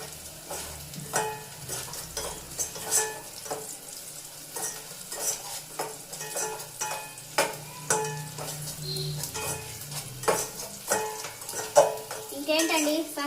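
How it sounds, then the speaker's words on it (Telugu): Onions frying in oil for egg biryani, stirred steadily until browned: a constant close sizzle broken by repeated scraping strokes of a spoon against the pan. "ఇవి బ్రౌన్ కలర్లో వచ్చిందాక వేయించుకుంటే ఈ ఉల్లిపాయలు"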